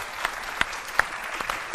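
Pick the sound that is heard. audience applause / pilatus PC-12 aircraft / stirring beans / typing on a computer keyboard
audience applause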